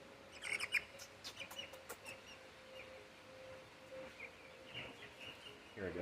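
Backyard chickens with orange head feathers give faint, scattered high chirps and peeps, several in a quick cluster near the start and a few more spread out, over a quiet outdoor background.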